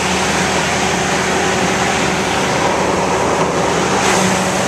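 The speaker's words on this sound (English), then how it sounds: "This truck sounds great and it runs very smooth." 2012 Ford F-250 Super Duty pickup engine running, a loud, smooth, continuous drone with a steady hum and no change in pitch.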